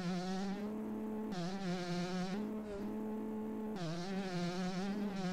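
A motocross bike in the game MX Bikes held near full throttle, a loud buzzing engine drone that dips briefly at gear changes and climbs straight back to a high steady whine.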